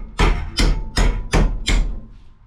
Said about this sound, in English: or you could get a big fucking hammer